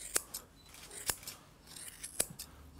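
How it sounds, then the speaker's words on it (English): Scissors snip through a Lhasa Poo's coat during a pet trim, three crisp, close cuts spaced about a second apart against a quiet background. "you're trimming almost from the flat of the nose there"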